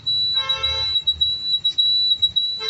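A buzzer on a Kinetic Honda scooter converted to electric drive sounds its turn-indicator warning: a loud, close electronic tone that pulses on and off in a steady repeating rhythm, with no talk.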